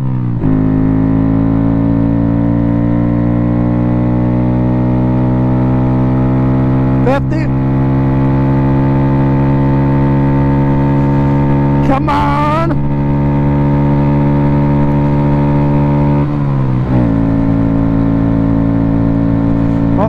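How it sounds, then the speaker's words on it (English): A Honda ADV 150 scooter climbs a hill at full throttle. Its loud, close engine drone holds steady and slowly rises in pitch, with a few brief wavers along the way and wind rushing over the rider. "Start it now. Full throttle."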